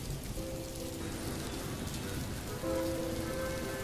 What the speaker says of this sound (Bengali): আজও কফি শপে বৃষ্টি পড়ছে